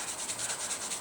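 Car base coat paint is wet sanded with water in a steady, close, rhythmic rubbing of back-and-forth strokes, heard alone.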